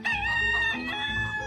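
A farm rooster crows close by in one long, drawn-out cock-a-doodle-doo that holds steady for over a second before tapering off.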